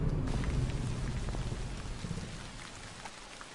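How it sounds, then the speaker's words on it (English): Rain falling in the horror video game Tsugu No Hi, a dense steady patter on surfaces with a low rumble beneath, easing slightly toward the end. "it's starting to rain."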